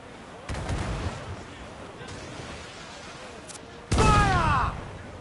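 Ship cannons in a naval battle in the game Assassin's Creed fire in two heavy, booming volleys, the second louder and nearer, over a steady wind-like rush.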